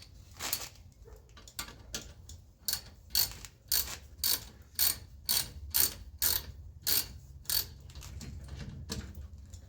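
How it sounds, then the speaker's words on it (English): A ratchet clicks in a steady run of about a dozen sharp, close bursts while reinstalling the caliper bolts on a bicycle disc brake, with no one speaking. "And we'll reinstall our bolts."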